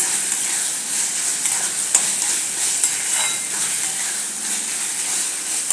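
Tomato bhaji with a little sugar, stirred in a pan, gives a steady, close frying hiss with faint scraping and occasional soft clicks throughout, without voices.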